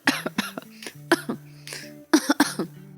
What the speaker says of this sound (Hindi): पीछे से खांसने की एक्टिंग करने लगी